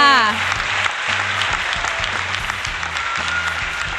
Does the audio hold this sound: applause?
yes